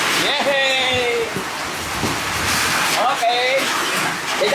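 Rain falling steadily as a dense, loud hiss throughout, with people talking over it.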